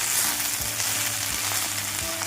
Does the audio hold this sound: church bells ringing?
no